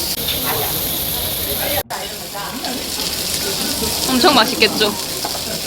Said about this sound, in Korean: 소리가 엄청 좋아요. 지글지글.